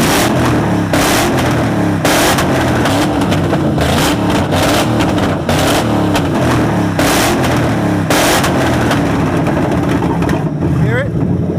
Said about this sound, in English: Hear the rev now.